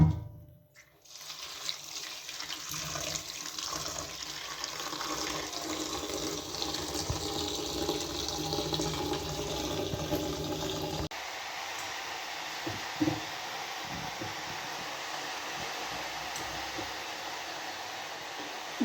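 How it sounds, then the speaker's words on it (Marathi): Ambadi leaves being washed in clean water: a steady rushing of running water and splashing fills the whole stretch, dropping to a quieter, softer flow partway through, with no talking. "आता याला आपण स्वच्छ पाण्याने धुवून घेऊ."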